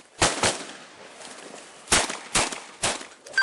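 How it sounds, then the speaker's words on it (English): Several sharp gunshots crack out during a police shootout with an armed suspect, two close together, then a pause before three more in quick succession, loud and nearby. "Shots fired! Shots fired!"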